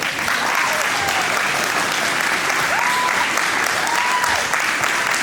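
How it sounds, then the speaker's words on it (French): Loud, dense audience applause at a cosplay selection event in Rouen, sustained clapping filling the room for several seconds with a few faint whistles or cheers rising through it. "On peut les applaudir bien fort"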